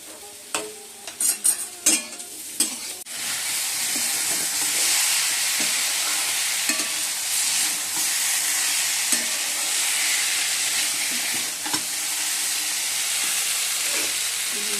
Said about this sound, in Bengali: কপিগুলো ভেজে নিচ্ছি